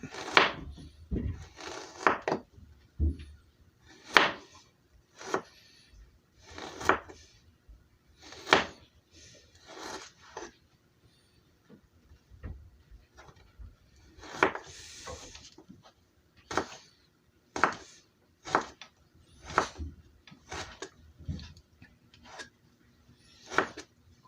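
A knife slices ginger thinly on a wooden cutting board, making a long run of sharp, close knocks against the wood at an uneven rhythm, some tapping in quick pairs, with short pauses in between.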